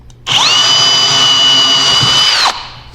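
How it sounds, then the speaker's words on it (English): A power drill whines at high speed for about two seconds, boring a hole through the fabric of a dinghy gunnel guard. The sound is close and loud, with a steady pitch that spins up sharply and cuts off abruptly. "I tried again to drill through the fabric"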